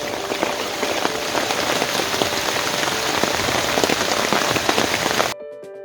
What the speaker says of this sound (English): Just solid rain out there